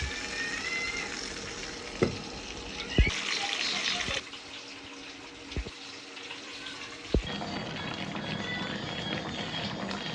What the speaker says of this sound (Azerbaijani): Qızardıram bunu da qızlar.